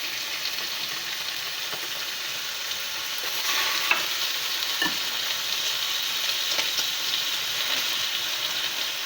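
Chicken pieces sear skin side down in a very hot pan for a braised chicken dish, giving a steady, loud broadband sizzle with a few sharper crackles and pops throughout.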